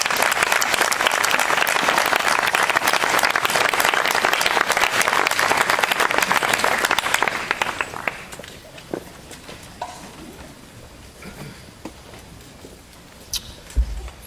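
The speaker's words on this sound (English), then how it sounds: "give you a wonderful welcome and round of applause" Crowd at a Southern Vermont College convocation applauding new staff, loud sustained clapping for about seven seconds that then fades to scattered claps, shuffling and room noise.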